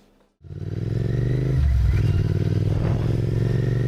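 Royal Enfield Continental GT 650 motorcycle starting up and riding, a sudden loud engine burst after brief quiet, then a steady close throbbing twin-cylinder rumble that builds as it pulls away.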